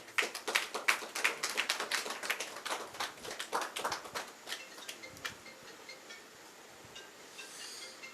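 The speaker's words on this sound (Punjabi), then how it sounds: "ਤਾੜੀਆਂ ਨਾਲ ਸਵਾਗਤ ਜੀ" A crowd at a statue unveiling ceremony claps in a burst of dense applause that gradually thins out and fades toward the end.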